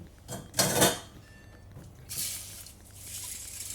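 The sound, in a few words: beans put into a pot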